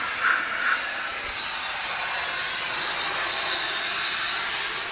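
Steady, loud hiss of steam from a Wagner power steamer cleaning out a car's battery compartment, continuous and close with no talking.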